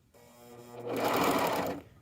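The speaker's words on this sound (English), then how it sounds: "we're going to go around and serge those" A serger sewing machine runs alone as it serges fabric edges, with a soft start that quickly builds into a steady, loud mechanical whir and then stops.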